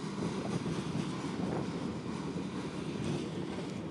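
CSX freight train Q648 rolls northbound through Madisonville, Kentucky, a steady, unbroken rumble of wheels and cars mixed with gusting wind, holding at an even level throughout.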